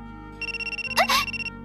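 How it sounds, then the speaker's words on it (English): A phone ringtone chimes in a repeating electronic pattern, with a quick voice breaking in over it. "your phone's ringing"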